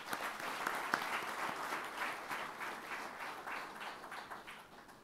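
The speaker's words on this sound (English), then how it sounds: "Big round of applause to all of you." A roomful of people applauds at a gathering, a steady, dense wash of clapping that holds at moderate level for the full stretch with no voices over it.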